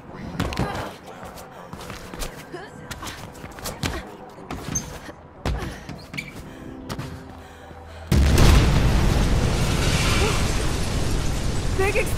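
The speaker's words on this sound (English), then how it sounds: "Explosion over here!" A loud explosion in the Mirror's Edge Catalyst video game bursts in after scattered impacts and game noise, followed by a sustained roaring rumble of debris and fire.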